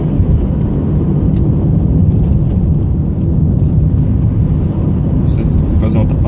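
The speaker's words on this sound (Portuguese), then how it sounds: "precisei do motor, acelerei e já me deu força para poder fazer essa ultrapassagem tranquilo" A Hyundai HB20 1.0 Comfort Plus accelerates hard to overtake, its engine and road noise a steady, loud drone filling the cabin from start to finish.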